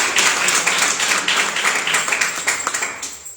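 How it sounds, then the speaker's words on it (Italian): Lively applause from a church congregation during a sermon by Pastor Carmelo Orlando, a dense, bright patter of many hands clapping in a rough rhythm, close and sustained. "Facciamo un applauso a Dio"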